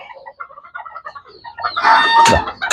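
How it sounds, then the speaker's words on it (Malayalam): Black Kadaknath chickens clucking in a coop, soft scattered clucks at first, then a louder, denser burst of hen calls nearby. "ഇതിൽ മൊത്തം കരിങ്കോഴികളാക്കിയിട്ടുണ്ട്"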